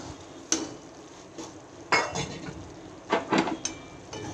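A metal spoon clinks and scrapes around a pan of hot groundnut oil as mustard seeds go in, with several sharp knocks and a cluster of rattling strokes over a faint background hiss.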